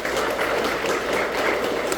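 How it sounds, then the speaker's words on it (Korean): Applause from an audience at a lecture event in Haenam, a steady dense clapping that fills the room throughout. "박수 한번 보내주시기 바랍니다."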